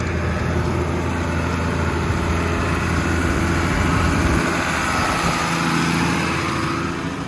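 A tractor engine drones steadily as it drives slowly across a field being sown with lamb's lettuce and spinach, making a loud, continuous rumble with no break.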